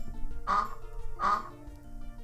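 Two loud, close quacks from a pet duck indoors in a studio, evenly spaced about a second apart over a quiet background.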